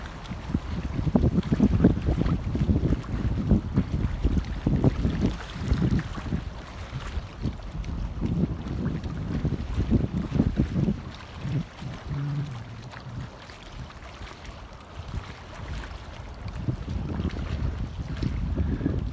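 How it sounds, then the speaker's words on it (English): Strong wind buffets the microphone in a steady roar at a lake boat ramp on Lake Allatoona during flooding, with a low rumble of water beneath and no voices. "Just so windy today."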